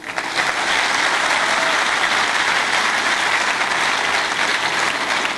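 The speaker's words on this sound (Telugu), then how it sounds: "మీరందరూ చాలా బాగా క్లాప్ కొట్టారు" A large audience at an event claps loudly and continuously, a dense, even roar of applause filling the room from start to finish.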